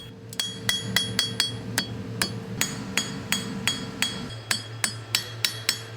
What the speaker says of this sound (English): you keep the hammer bouncing on the anvil